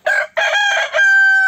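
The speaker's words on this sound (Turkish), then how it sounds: "çok müthiş alan koruyucu bir horoz" A Ligorin crossbreed rooster gives one loud, close crow: several broken opening notes, then a long sustained final call, with nothing else heard behind it.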